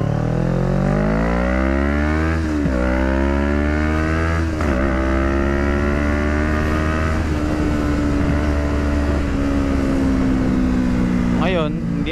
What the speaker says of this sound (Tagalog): Maganda na ulit manggigil yung motor natin, hindi na siya pumupugak.